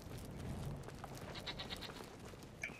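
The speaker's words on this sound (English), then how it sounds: "I'm scared these goats are gonna attack me." Goats bleating in the video game Brothers: A Tale of Two Sons, a few faint, short high calls over a steady game background.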